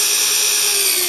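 A power drill whines steadily and loudly while boring holes in a motor mount, a sustained high-pitched tone up close with no voices.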